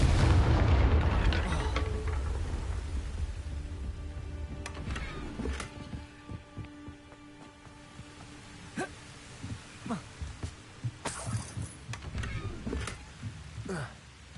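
Confringo fire spells in the video game Hogwarts Legacy burst with a big rumbling explosion that fades slowly. A string of sharper blasts and pops follows at irregular intervals, and a voice is heard faintly among them.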